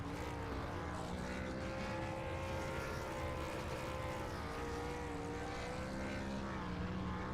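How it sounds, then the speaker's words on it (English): A race car engine in iRacing's ARCA series at Milwaukee drones steadily through burnouts, a sustained loud hum whose pitch drifts slightly up and down, with no voices. "As he does his burnouts here"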